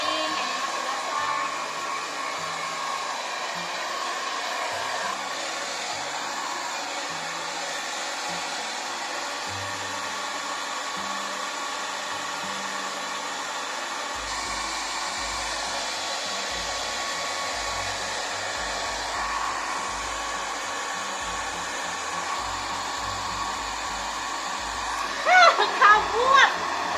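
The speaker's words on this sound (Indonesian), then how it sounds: "kita udah selesai buat nge-hair dryer Mufid." A hair dryer blows steadily and loudly while a cat is dried at home during a bath and grooming session, a continuous whooshing hum that runs the whole time with faint voices underneath.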